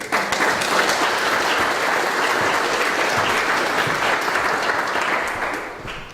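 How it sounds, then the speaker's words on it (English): An audience at a university start-up event gives a full round of applause for the university president, dense, even clapping sustained for about six seconds before tapering off. "So if everybody please give a round of applause."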